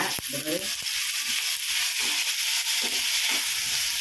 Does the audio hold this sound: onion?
yes